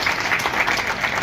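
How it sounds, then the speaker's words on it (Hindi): A crowd at a public gathering in Mahendergarh, Haryana claps to welcome guests, giving a brief, dense burst of steady applause with no voices over it. "एक बार इनका तालियों से स्वागत करते हैं।"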